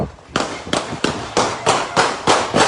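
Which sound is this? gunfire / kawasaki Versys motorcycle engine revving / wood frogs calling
gunfire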